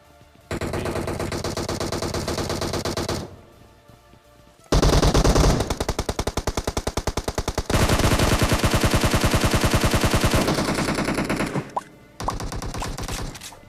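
Gunfight in the mobile game Battlegrounds Mobile India, with loud sustained bursts of rapid automatic gunfire broken by short pauses, several long volleys in a row and no talking.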